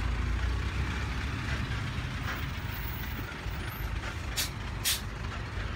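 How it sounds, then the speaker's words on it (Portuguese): A water tanker truck arrives and parks at a fire scene in Paulínia, its heavy engine rumbling steadily with two sharp air brake hisses near the end. "Mais um caminhão-pipa chega aqui para tentar ajudar com água."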